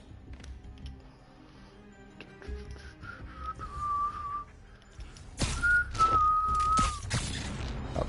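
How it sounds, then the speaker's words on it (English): A person whistling close into a microphone, two drawn-out sliding whistled notes separated by a short pause, heard over faint background sounds from a Marvel's Spider-Man game with thuds and bursts. "probably shouldn't be whistling into the mic"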